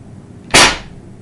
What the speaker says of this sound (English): you want to shoot your air cannon